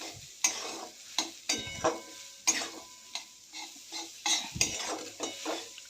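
Ground chana dal being sautéed with salt in a pan for vatli dal, a spatula scraping and stirring in repeated close strokes over a soft, steady sizzle, with no talking.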